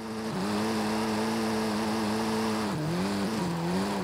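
Volkswagen Golf R drifting in Forza Horizon 5 with a sustained, loud engine howl under constant throttle, pitch wavering and dipping slightly as tires squeal, no voices.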